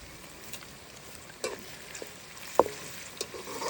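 A meat dish is stirred in a pan on an outdoor stove, with a soft steady sizzle broken by a few scattered scraping knocks.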